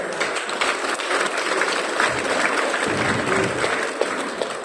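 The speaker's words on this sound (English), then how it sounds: "I think Boss Lim Boon Hong deserves a louder applause." Audience applause rises at a company event, a full crowd clapping loudly and continuously with a brief lower rumble of voices partway through.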